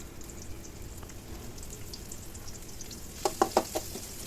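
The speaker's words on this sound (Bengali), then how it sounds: "প্রথমে কড়াইতে দিয়ে দিলাম অল্প পরিমাণে রান্নার সয়াবিন তেল তারপরে দিয়ে দিলাম এখানে পেঁয়াজ কুচি" Chopped onions fry in a little soybean oil in a kadai with a soft continuous sizzle, then a short burst of crackling pops and spatters near the end.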